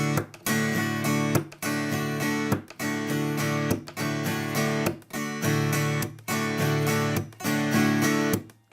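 An acoustic guitar strums a steady rhythm of chords, broken at regular intervals by a sharp percussive chop against the hollow body that sounds like a snare hit, keeping an even down-up-chop pattern throughout.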